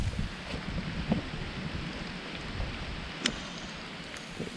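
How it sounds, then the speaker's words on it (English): Night storm with rain and high winds: soft, faint hiss of rainfall and gusting wind noise, with a couple of brief knocks or drips. "Storms are blowing through"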